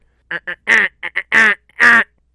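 A duck in the Duck Dynasty video game quacks loudly and close in a quick string of about seven nasal calls, short ones at first, then longer drawn-out quacks, with no talk over them.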